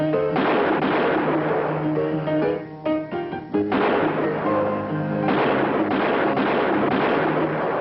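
A staged Wild West gunfight between bad guys and good guys at Disneyland's Frontierland in 1962 fills the stretch with a rapid series of loud gunshot bangs and echoing bursts, with brief gaps between volleys.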